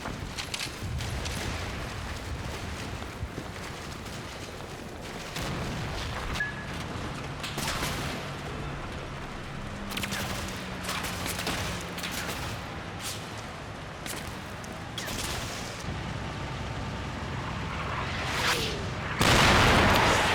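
Incoming artillery strike in a war video game, a series of booming explosions of varying loudness over a rumbling battlefield background, ending with a heavier nearby blast.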